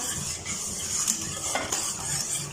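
A whisk stirs a biscuit-based chocolate dessert mixture in a pot over a low flame to break up lumps, giving a steady close scraping and clinking rhythm over a faint sizzle.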